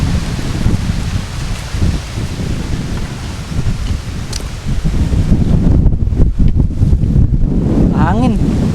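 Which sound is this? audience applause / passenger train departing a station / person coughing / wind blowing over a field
wind blowing over a field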